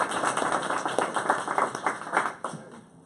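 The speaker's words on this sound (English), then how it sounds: "So let's give all of them a round of applause." Audience applause fills a graduation ceremony hall, a dense, steady patter of many hands clapping for about three seconds before thinning out toward the end.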